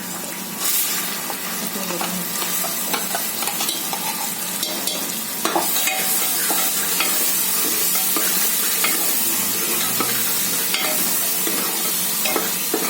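Onion with asafoetida and turmeric frying in a pan makes a loud, continuous close sizzle, with occasional spoon scrapes and no talking.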